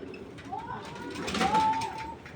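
A racing pigeon held in the hand coos with soft throaty notes over faint rustling of feathers, close by, while someone talks over it.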